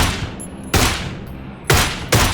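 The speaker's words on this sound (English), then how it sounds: "send some fire down from a new position" Gunfire in the video game PUBG cracks out in three loud, close bursts, each shot ringing out and fading before the next one hits.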